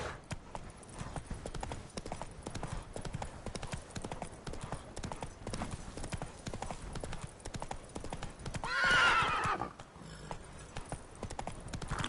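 Roach, a horse in the video game The Witcher 3, runs with a continuous fast clip-clop of hooves nearby, and a brief swelling rush of noise near the end.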